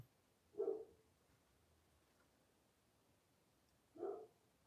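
Stitch, a pet dog, gives two single muffled barks a few seconds apart, fairly distant and moderate in loudness, against a quiet room background.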